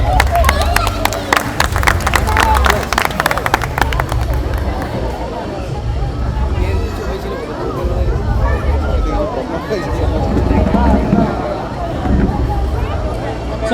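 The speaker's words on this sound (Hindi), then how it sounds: "शानदार परफॉर्मेंस, जोरदार तालियां फिर से एक बार ग्रुप के लिए।" A festival audience claps for a group after their performance, a dense burst of applause that fades into crowd babble, with a voice talking over it.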